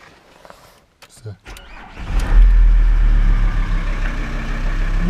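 A VW T4 diesel engine, warmed on glow plugs and fresh from a timing belt replacement, cranks and catches after a quiet start, then settles into a loud, steady low idle rumble close by.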